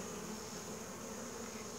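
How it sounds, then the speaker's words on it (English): Honey bees gathered at a swarm lure made from a pill bottle give a steady, continuous buzz that stays faint and even from start to finish, with no talking. "Seems like I have a pretty consistent bunch of bees on here"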